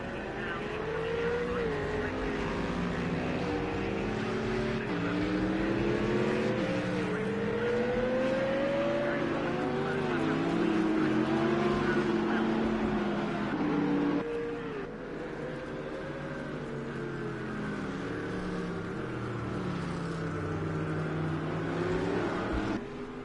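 A pack of GT3 race cars idles and rolls through a formation lap at Brands Hatch in a racing game, several engine notes droning and rising and falling as they shift and accelerate gently.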